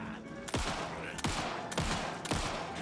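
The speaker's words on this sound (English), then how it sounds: "we're gonna shoot him in the feet" Gunshots in the Alan Wake 2 video game: four loud, sharp reports about half a second to a second apart, each with a short echoing decay, over a busy background with faint talking.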